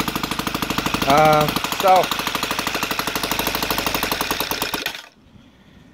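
An OS FT 300 two-cylinder model engine, converted to run on gasoline with CH ignition, runs loud and close with a rapid, steady chatter. It cuts off abruptly near the end, and a voice speaks briefly over it.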